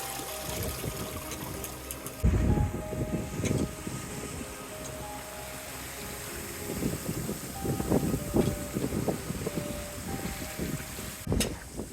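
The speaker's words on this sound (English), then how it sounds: "The wind has arrived per the forecast." Strong wind and water rushing around a sailing boat at sea off northern Spain, a steady broadband roar with gusting bursts and sloshing waves, no talk.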